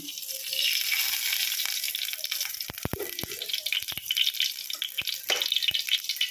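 Oil poured into a pan for tempering a broad bean (avaraikkai) sambar gives a steady watery gush with a few faint sizzles and pops, close and alone without talk.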